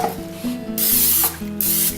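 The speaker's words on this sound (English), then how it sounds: "with a little nonstick cooking spray" Two quick bursts of hissing nonstick cooking spray onto a cake pan, each under a second, with a faint mechanical whir running beneath.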